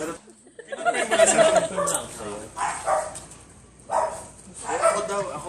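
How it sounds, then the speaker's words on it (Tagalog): A dog barks in short bursts at a moderate distance while several people talk and greet each other over it. "pati ang aso nagagalit"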